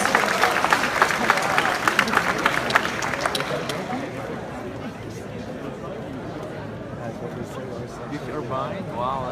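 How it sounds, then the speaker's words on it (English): An audience at a hackathon opening applauds a participant, a burst of many hands clapping that is loudest at first and fades over a few seconds into crowd chatter and murmuring. "Round of applause for Alyssa."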